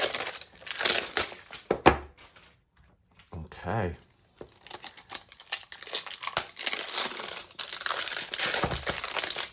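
Crinkly plastic packaging on a tarot card deck is torn and unwrapped close by in bursts of crackling, with brief pauses, and a voice speaks once.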